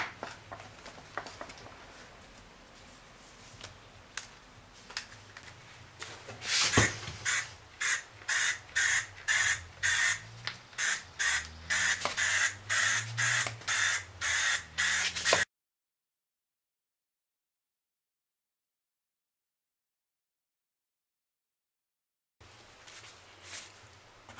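A handheld spray gun sprays a thin first coat of bed liner in a rapid series of short, close hissing bursts, preceded by quieter handling noise, then silence and a faint background return.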